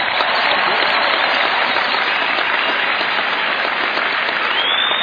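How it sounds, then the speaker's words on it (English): Sustained, dense stadium applause at the US Open 2010 doubles final ceremony, a broad roar of clapping from a large crowd, loud and steady throughout. "I'd like to have another nice applause for our four competitors we didn't get the first time."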